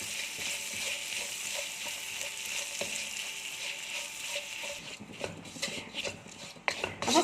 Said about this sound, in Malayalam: എന്നിട്ട് ഇതൊന്ന് വഴറ്റിയെടുക്കാം.